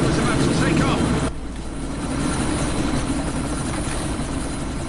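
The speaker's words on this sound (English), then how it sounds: "That chopper's about to take off!" Helicopter engine running loud and steady as the chopper prepares to take off, a dense broadband roar that dips briefly then holds, with voices talking over it.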